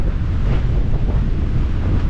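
Strong wind of roughly 30 to 40 blowing across a beach buffets the microphone in a loud, steady roar, with crashing surf mixed into the constant rumble.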